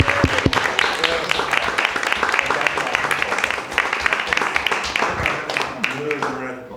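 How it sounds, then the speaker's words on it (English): Audience applause after student presentations, with a dense run of clapping that holds strong and then thins into scattered claps near the end, with faint voices mixed in. "Can we all give a round of applause to Anthony"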